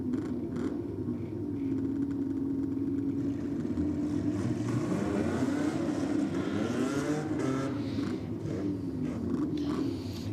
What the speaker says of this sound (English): motorcycle warming up below us